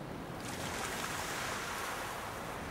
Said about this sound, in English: I'll pour away some of this water first.